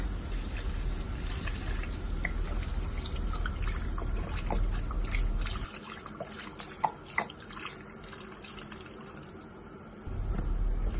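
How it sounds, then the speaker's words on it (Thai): Milk poured into macaroni in a pan, a soft steady liquid trickle and dribble over low background noise, easing to quiet in the middle before resuming. "จากนั้นเราก็จะใส่นมเนาะใส่นมลงไปเลย"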